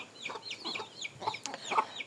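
Hens cluck busily at feeding time as a grain mix is brought and eggs are collected, with a run of overlapping clucks and short calls close by.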